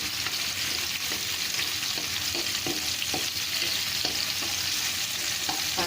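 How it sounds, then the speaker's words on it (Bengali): Chopped onion frying lightly in olive oil in a pan, a steady dense sizzle with soft scattered stirring clicks from a utensil, close and continuous, no voices. "এটার মধ্যে আর একটু পেঁয়াজ কুচি দিয়ে দিলাম। এটাকে হালকা একটু ভেজে নিতে হবে।"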